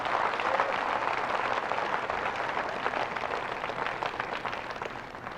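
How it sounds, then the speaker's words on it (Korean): Audience applause in a lecture hall after a motivational speaker's remark, a steady wash of many hands clapping at moderate volume, fading slightly toward the end, with no talking over it. "우리 모두 그 면에 박수를 보냅시다."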